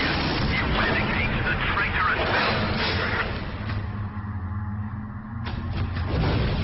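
Continuous explosions and rumbling blasts in Warhammer 40,000: Space Marine, set in an unstable library battlefield, with someone talking over the loud, dense booming that thins briefly before swelling again.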